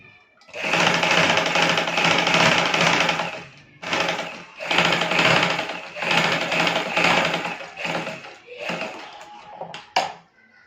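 A sewing machine runs close by, stitching a ruffle frill onto a designer baby frock for a 2 to 3 year old, in several steady bursts separated by short pauses, ending with a sharp click.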